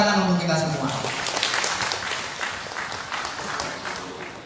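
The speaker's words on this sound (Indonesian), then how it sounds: "Tepuk tangan untuk kita semua." An audience claps at an inclusive education campaign event, a broad wash of applause that starts strong and slowly fades over several seconds, with a voice over a loudspeaker at the very start.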